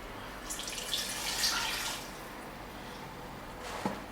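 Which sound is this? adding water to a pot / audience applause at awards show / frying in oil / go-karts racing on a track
adding water to a pot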